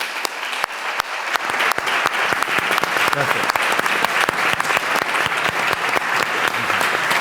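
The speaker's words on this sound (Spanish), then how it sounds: "Yo quiero pedir un aplauso para los tres porque os lo merecéis." Sustained, dense applause from an audience at a book presentation on the history of the town of La Unión, 1860–1910, with a voice briefly saying thanks over the clapping.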